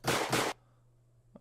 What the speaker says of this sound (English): like a normal pistol shot. So this is how it sounds.